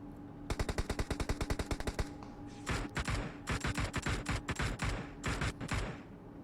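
Bursts of automatic gunfire in the video game PUBG Mobile during a tournament match: a long rapid volley, a short gap, then several more stuttering bursts, loud and close with no talking.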